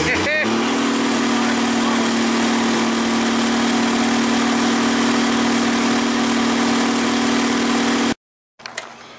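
A rat rod's engine idles steadily and near, a constant low hum that stops abruptly near the end, followed by brief scattered noise.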